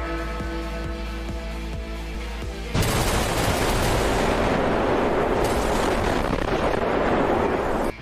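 Blasters in Super Toilet Brawl, fired by a Blooper titan clockman, set off a loud, dense barrage that begins abruptly partway through and runs on without a break, after a steady tonal game hum.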